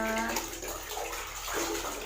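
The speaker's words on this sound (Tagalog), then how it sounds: "Nag-iipon kami ng tubig." Running water filling a container at home to store it, a steady splashing, bubbling rush that is close and fairly loud, heard alone throughout.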